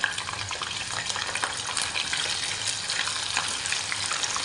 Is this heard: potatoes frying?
yes